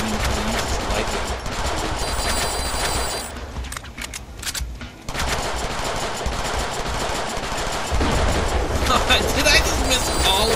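Rapid automatic gunfire bursts from the Deadpool video game rattle loudly and almost continuously, broken by a short lull before the shooting resumes.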